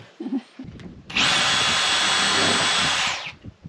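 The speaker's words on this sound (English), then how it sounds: "The reason I'm drilling the holes is so I don't split the board." A power drill whines steadily for about two seconds, pre-drilling holes in a wooden board during roof repair, with a few soft clunks before it starts and after it stops.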